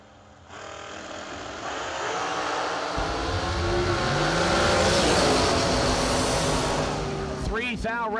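Dragsters, including a Racetech chassis car, launch down a drag strip at a New Year Nationals race, a loud engine roar swelling and sustaining as the cars pull away, while an announcer talks over it.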